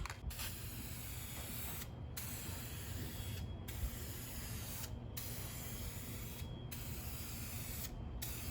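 Spray paint goes on as a second coat over Dodge Viper valve covers: a continuous close hiss broken by brief, regular pauses every second and a half or so, with no talking.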